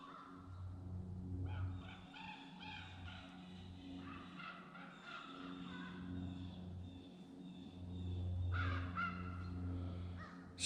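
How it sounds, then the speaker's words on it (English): A crow in the Maine deer woods makes strange, varied calls, some hoarse and some tonal, repeating at intervals. They come through faint and distant over a low steady background hum. "Sounds like a crow."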